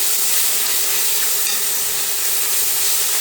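Fish gravy fries in a pan with tomato and ginger-garlic paste, giving a loud, steady, broadband sizzle and hiss that runs unbroken with no voices.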